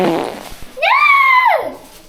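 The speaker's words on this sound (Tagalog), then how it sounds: "Baho ng utot ko" A single loud, tonal fart rises, holds, then drops over about a second. It comes after brief indistinct sounds, heard close up indoors.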